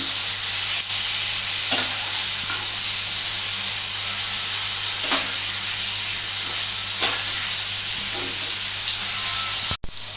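Chicken pieces for barbecue chicken fry in a pan with a loud, constant hiss and crackle, close up, broken by a few brief scrapes as the pieces are turned, and no voices.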